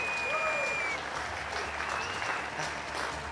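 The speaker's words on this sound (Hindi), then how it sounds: "जोरदार तालियां हो जाए हमारी ज्योति भाभी के लिए" Studio audience applause from an Indian TV comedy show, steady clapping from a sizable crowd lasting the whole span at moderate level, with faint voices and whoops mixed in.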